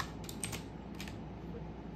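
Keys clatter on a computer keyboard as a short command is typed, a quick close burst of several clicks over a steady faint background hiss.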